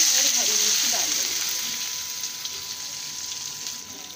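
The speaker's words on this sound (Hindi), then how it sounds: "इसके बाद बारीक कटे हुए प्याज और हरी मिर्च डाल देंगे।" Finely chopped onions and green chilies frying in a pan give a steady bright sizzle, loudest at first and easing slightly, with a few clinks and a faint voice underneath.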